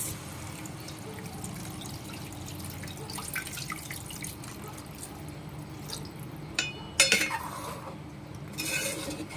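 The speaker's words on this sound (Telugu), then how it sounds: "ఇప్పుడు వాటర్ వేసుకుందాం" Water trickles and splashes into a metal pot of country chicken curry, with clinking of utensils and a few louder splashes toward the end.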